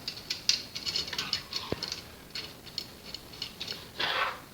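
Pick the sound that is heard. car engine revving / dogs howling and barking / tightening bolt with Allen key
tightening bolt with Allen key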